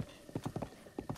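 A horse's hooves clip-clopping in Zelda: Breath of the Wild, a quick run of quiet, evenly spaced hoof steps in two short bursts.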